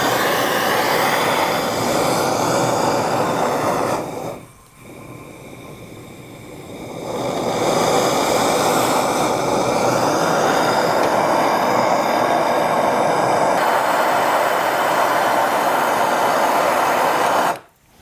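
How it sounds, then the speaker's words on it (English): A MAP gas torch roars steadily up close while heating around a bolt on a Briggs & Stratton snowblower engine. The flame noise dips briefly partway through, then returns at full strength until it stops abruptly. "I'll grab my map torch here, heat around the outside where the bolt is bolted in"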